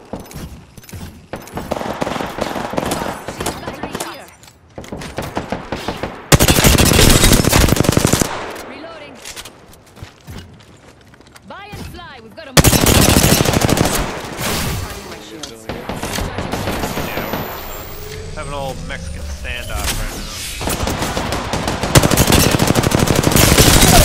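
Rapid automatic gunfire from an R-301 and other weapons in the video game Apex Legends comes in loud bursts, alternating with quieter gaps, heavy sustained volleys, and a voice talking during the fight.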